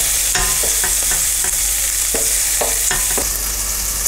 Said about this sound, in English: So this bacon's been cooking for approximately 5 minutes